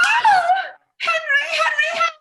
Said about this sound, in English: She turns and screams.